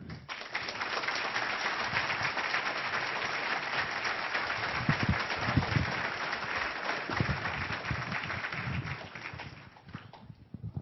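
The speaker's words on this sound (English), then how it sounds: "a very loud round of applause to a very powerful man, Dr. Stephen Greer." Audience in a lecture hall gives a loud, long round of applause to welcome a speaker, a dense clatter of many hands that holds steady for about ten seconds before tapering off, with a few voices mixed in.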